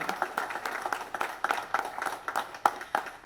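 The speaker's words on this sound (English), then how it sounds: "please give them a round of applause for all this amazing building" Audience applause during a Mazda 45th anniversary ceremony, a steady patter of many hands clapping at moderate distance with no talk over it.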